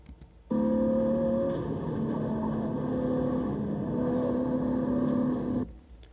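A race car on the Thunderhill West course holds a loud, steady engine drone heard from onboard, easing slightly as the throttle lifts into a left-hander, then cutting off abruptly.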